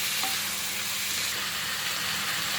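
Banana blossom stir-fry being stirred in a hot pan, a steady close sizzle and hiss with soft scraping, continuous and loud, without talk.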